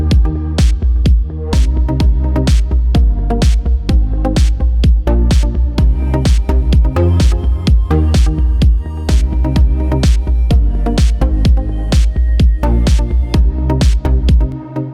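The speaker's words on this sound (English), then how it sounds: "This is just a short 8-bar house loop that I came up with." A short 8-bar house loop made in Reason 11 repeats a steady four-on-the-floor beat with punchy kick, crisp hi-hats and chopped chord stabs, loud and driving throughout with no voices.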